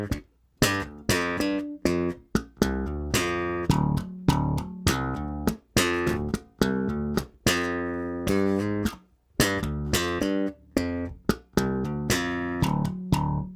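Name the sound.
bass guitar playing a groove and fill slowly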